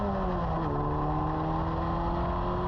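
A Formula Ford race car engine runs in first gear with a steady, close droning hum, its pitch dipping slightly early on before holding even.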